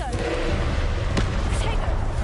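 Confringo fire spell cast in the PS4 game Hogwarts Legacy: a sharp blast bursts out mid-clip over a dense, steady wash of game sound, with a voice calling out in the background.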